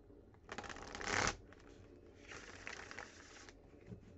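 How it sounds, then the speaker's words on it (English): Tarot cards being shuffled close up in two quick riffling bursts, crisp and papery, with a brief pause between them and no talking. "I'm going to shuffle this again."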